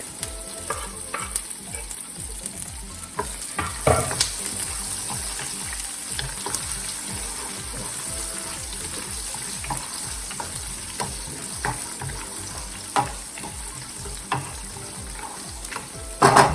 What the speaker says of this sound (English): So now goes green chilies, ginger garlic